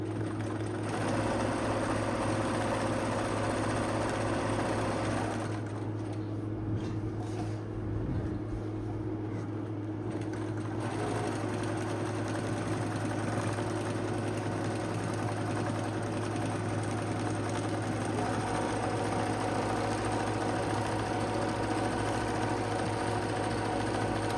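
A sewing machine quilting on a Cutie Breeze quilt frame runs as a steady, even mechanical hum and whir throughout, fairly quiet and unbroken, with no talking.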